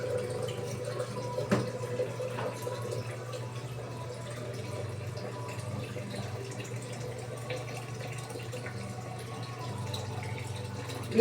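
Mineral water running steadily from a container into a vessel for making ice, a continuous low pouring and trickling with a few faint drips, close and even throughout, no voices.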